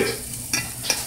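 Small sausage links frying in a cast iron pan give a steady broadband sizzle, with brief clinks or scrapes near the middle and end of a short moment, no voices.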